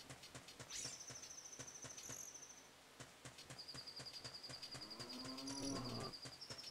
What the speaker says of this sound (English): Why am I hearing a cow?